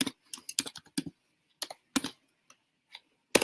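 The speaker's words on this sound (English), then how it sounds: "And I'm just typing the word and then clicking enter." Someone types on a computer keyboard, a scattered sequence of sharp, close key clicks with uneven gaps and no speech.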